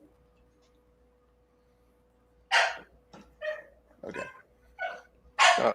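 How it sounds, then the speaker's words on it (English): A puppy barks in several sharp, fairly close bursts after a few seconds of quiet, with a brief spoken word among the barks. "sounds like the puppy needs to go out."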